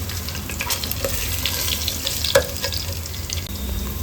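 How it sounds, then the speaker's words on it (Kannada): Garlic fries in hot oil for a raw mango rasam, giving a continuous close sizzle and crackle. Light clinks of stirring come through, with one sharper tap near the middle. "ಬ್ರೌನ್ ಕಲರ್ ಬರುವ ಹಾಗೆ ಫ್ರೈ ಮಾಡ್ಕೊಳ್ಳೋಣ."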